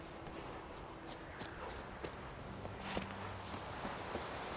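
Horse hooves clip-clopping at a slow walk in The Witcher 3, a steady soft rhythm of hoofbeats over ambient game background, moderately close and not very loud.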